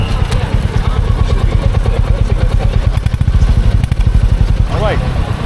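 A motorcycle at a motorcycle show that sounds like a Royal Enfield, its engine thumping in a steady loud rhythm close by, with a brief rising rev near the end and voices over the running engine.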